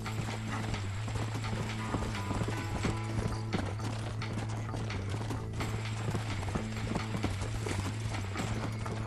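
Horse hooves beat in a steady rhythm inside the Red Dead Redemption western video game, sounding close under constant game music and ambience with occasional mechanical rattles.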